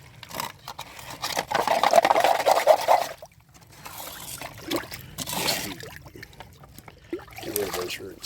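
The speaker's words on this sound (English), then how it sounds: "the water in the creek is rising" Creek water trickles and patters steadily through a Gold Hog mini sluice, close by, with louder surges of flow and a voice speaking over parts of it.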